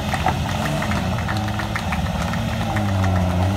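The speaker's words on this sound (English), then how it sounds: "Twelve-cylinder motor mounted sideways behind the cockpit." A 1969 Lamborghini Miura S twelve-cylinder engine, mounted sideways behind the cockpit, runs at a steady idle with a low throbbing rumble and mechanical clatter, loud and continuous throughout.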